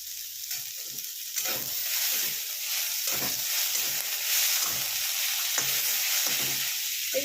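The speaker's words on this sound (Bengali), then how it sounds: "এটাকে একটু ভালো করে ভেজে নেবো।" Chow mein vegetables with sliced tomato fry in a pan, a steady bright sizzle with rhythmic stirring scrapes recurring about every half second, close and continuous with no talk.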